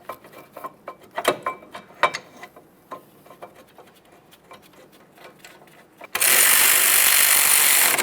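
Caliper bracket mounting bolts on Kia Forte front brakes are started and snugged, giving scattered metallic clicks and ratchet ticks, then a loud steady burst from a power tool running for the final two seconds.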